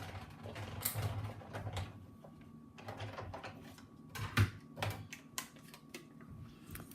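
Paper being cranked through a die-cutting machine with stitched circle dies, quiet irregular ratcheting clicks and creaks of the mechanism close by, with no talking.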